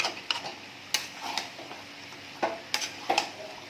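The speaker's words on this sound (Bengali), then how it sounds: "এখনো অবধি আমি মটন কিন্তু কষে যাচ্ছি, দেখতে পাচ্ছ তোমরা।" Mutton being stir-fried in a pan for mutton kosha: a few sharp spatula scrapes and clacks break up through a soft sizzle, with short uneven pauses between strokes.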